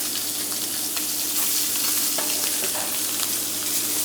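Fish fillets fry in butter in a pan, producing a steady, close hissing sizzle that runs unbroken throughout, with faint scattered crackles.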